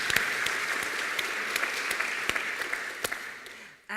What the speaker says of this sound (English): I say a round of applause for what you're doing